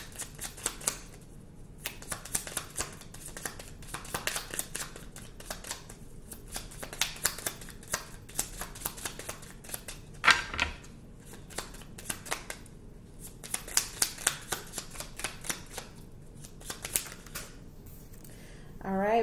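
Tarot cards being shuffled over and over in bursts of rapid riffling flutters, close and crisp, with someone speaking in the pauses between shuffles.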